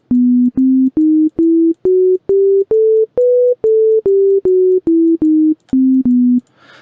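Synth notes from a MIDI clip climb and then descend the B Phrygian dominant scale used in darkpsy, fifteen clean, evenly spaced tones played alone, each a short separate pulse.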